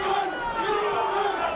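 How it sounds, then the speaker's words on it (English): A boxing crowd at a ballroom fight night roars behind a fighter, sustained shouting and cheering voices blending into a loud, continuous wall of noise. "You hear the crowd getting behind Foreman."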